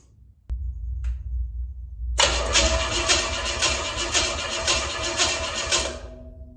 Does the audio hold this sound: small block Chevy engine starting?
yes